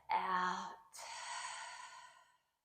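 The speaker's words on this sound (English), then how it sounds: "Taking a deep breath in and a clearing breath out." A deep clearing breath out during a yoga stretching session: a voiced sigh-like exhale followed by a long, soft airy breath trailing off, close and alone.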